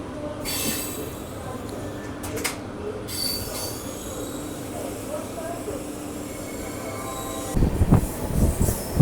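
A Sogaria Intercity SF Express train rolls along Indian railway track with steady wheel and rail noise and squealing wheels, with a louder burst of clattering near the end and faint background talk.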